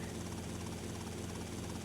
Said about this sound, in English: My helicopter got a little bit damaged from hitting the trees during the previous mission